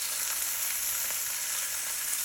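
Steady, dense sizzling of chicken frying in a hot pan, a constant crackling hiss up close with no talking.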